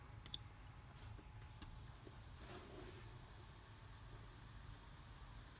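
Two quick, faint computer mouse clicks come at the very start, opening an application on Windows Server 2016, followed by a quiet, steady background hum.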